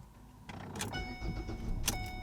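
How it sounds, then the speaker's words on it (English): A 2013 Ford Escape being started, with a brief starter whir and clicks, then the engine catching and idling with a second burst of cranking noise, heard close and without talk. "I'm going to continue to start this a few times on and off."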